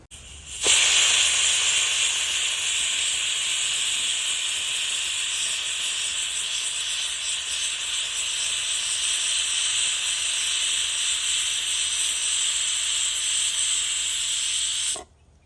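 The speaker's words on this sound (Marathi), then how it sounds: "आपल्या कुकरच्या पाच शिट्ट्या झालेल्या आहेत" Pressure cooker whistling hard while mutton cooks, a loud, steady high-pitched hissing steam jet sustained for about fourteen seconds before cutting off abruptly.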